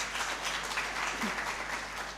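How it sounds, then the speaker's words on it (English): An audience at an indigenous seeds and food harvest fair applauds, a dense steady wash of many hands clapping at moderate distance for about two seconds. "Another clap for the powerful ladies."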